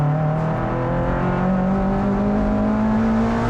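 A turbocharged Mazda MX-5 race car engine drones loud and close at high revs, its pitch climbing steadily and holding near the top of the range, with no talk.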